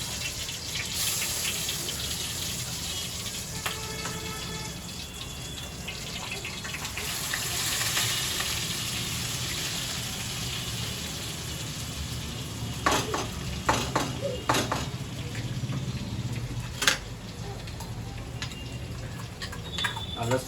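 Garlic, chili and onion gravy sizzles loudly in a hot pan for batata bhungla, a steady broadband frying hiss with scattered sharp clinks and scrapes of stirring toward the end; no voices.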